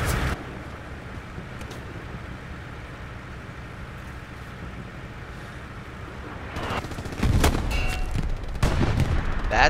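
Gunfire in the video game Hell Let Loose: a low battlefield rumble, then a cluster of loud, sharp shots near the end.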